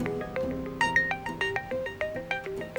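A phone's melodic ringtone plays a bright, repeating sequence of electronic tones in a steady rhythm, moderately loud and clear, with no one speaking over it.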